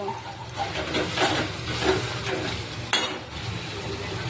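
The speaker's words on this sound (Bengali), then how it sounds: "গোটা জিরে তেজপাতা শুকনো লঙ্কা এই দিয়েই ফোড়নটা হবে" Whole cumin, bay leaf and dried chilli sizzle in hot oil for tempering a winter cauliflower curry with curry leaves, giving a close, continuous crackling hiss and a sudden louder burst near the end.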